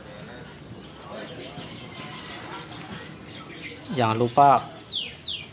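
At the Suka Haji bird market in Bandung, someone talks over a busy background as a couple of loud, close bird chirps ring out near the end, followed by quick, high whistling sweeps.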